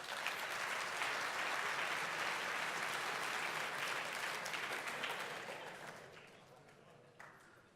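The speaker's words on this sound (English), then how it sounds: "Let's have a round of applause." Dense, loud applause from a large conference audience at a 2017 Tesco Mobile corporate event, sustained for several seconds before slowly thinning out, with a brief spike near the end.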